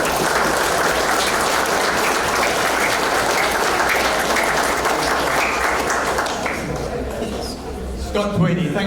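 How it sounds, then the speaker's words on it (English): A room full of people applauds loudly and steadily at a hall of fame induction, the clapping tapering near the end as cheers and voices rise. "If we can all give Scott a very big hand of applause, please."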